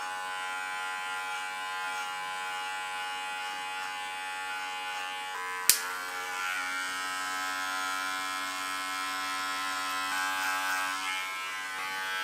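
Electric hair clippers with a 14 mm guard buzz steadily through a home haircut, a close, continuous hum with a sharp click partway through and a slight shift in pitch as the clipper moves through the hair.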